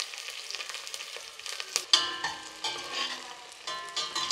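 Shallots and green chillies sautéing in hot oil with cardamom and cinnamon, a steady close sizzle with crackling bursts and occasional stirring scrapes, no voices.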